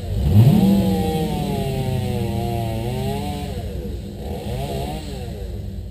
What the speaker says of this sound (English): It wasn't long before we had to break out the chainsaw and start cutting some trees.